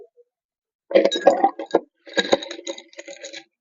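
Ice cubes drop into a glass for a strawberry mocktail, two quick clusters of bright, close clinks and rattles against the glass, separated by a short pause and followed by silence.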